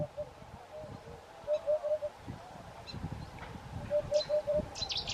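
Eurasian Hoopoe calling twice with soft, repeated low hooting notes, a short burst around the start and another later, heard at moderate distance over a dense background of other birds chirping and a steady ambient hum.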